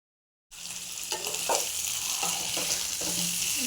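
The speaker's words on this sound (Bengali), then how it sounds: "নতুন আলুটা আমি ভালো করে ভাজবো।" New potatoes sizzle steadily in a hot pan with cumin, a continuous bright frying hiss with occasional stirring scrapes, close and fairly loud after a brief silent start.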